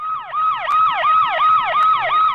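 Loud emergency siren wailing in repeated rising-and-falling sweeps, about five cycles, close and alone without talk.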